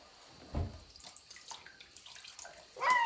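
Water from a tap or basin sloshes and splashes close by as toys are washed during play, a soft irregular patter with a louder splash near the end and no voices.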